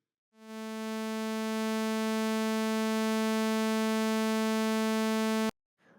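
A steady, buzzy oscillator tone from the Mela 6.9 synthesizer swells in quickly and holds at an even, moderate level for about five seconds before cutting off abruptly, alone with no talking.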